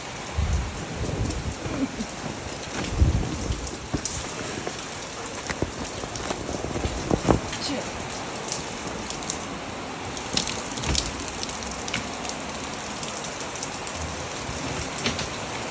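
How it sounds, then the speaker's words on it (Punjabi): Heavy rain pours down outdoors, drumming steadily on surfaces with scattered louder drops and a low rumble of thunder beneath, dense and close throughout with no talking. "ਮੀਂਹ ਤਾਂ ਹੁਣ ਮੈਨੂੰ ਲੱਗਦਾ ਬਹੁਤ ਬਾਰਿਸ਼ ਹੋਊਗੀ"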